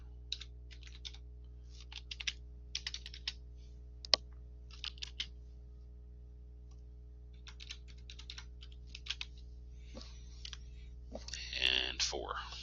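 Typing on a computer keyboard while filling in a Word table, scattered bursts of light clicky keystrokes over a steady low hum, close and quiet, with a voice speaking briefly near the end.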